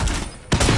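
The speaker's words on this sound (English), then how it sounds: "I hit him with several shots" Burst of gunfire in the video game Warzone, loud and close, a dense rattle that drops away briefly and then resumes just as strongly.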